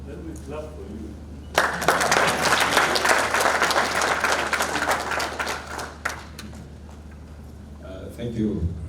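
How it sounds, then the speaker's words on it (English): A crowd gathered for a pensioners association launch in Juba claps in a sudden, vigorous burst that holds steady for several seconds and then fades, with a voice speaking briefly before and after. "Let me clap for you."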